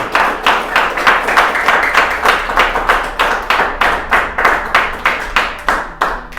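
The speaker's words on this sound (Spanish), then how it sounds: "Dale una ofrenda de palmas a Cristo" A church congregation claps in steady rhythmic unison, loud and close, with sharp regular beats throughout and no talk over it.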